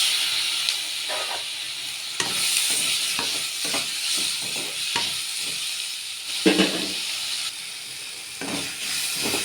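Tomato goes into onions frying for a chicken gravy, making a constant steamy hiss and sizzle broken by repeated soft scrapes and taps of stirring in the pan, with no voices.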